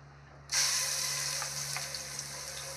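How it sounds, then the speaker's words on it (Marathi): Garlic is tossed into hot oil for a tempering and bursts into a sudden loud sizzle about half a second in. The bright, steady frying hiss then continues close by, with no talk. "तेल गरम झाले तर आपण तडका करूया लसूणचा"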